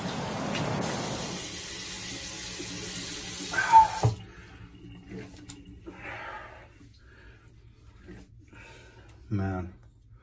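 A bathroom tap runs steadily for about four seconds as a man rinses off after a shave, then shuts off, leaving quiet room sound with faint breaths and brief rustles.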